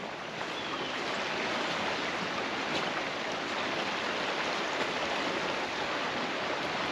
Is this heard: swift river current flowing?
yes